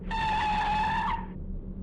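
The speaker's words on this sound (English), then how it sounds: "a car screeched to a halt in front of the house" A car's tires give one sustained, loud screech as it skids to a stop outside a house, a steady squeal lasting about a second before cutting off over a low rumble.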